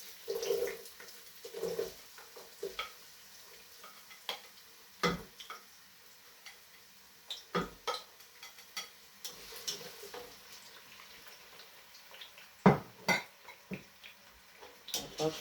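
Chopped onion fries in hot oil in a pan alongside tomato, fresh chili and ginger garlic paste, a faint low sizzle punctuated by irregular sharp clinks and scrapes of a utensil against the pan.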